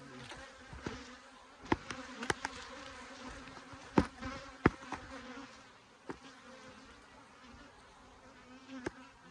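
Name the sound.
honey bees buzzing at hive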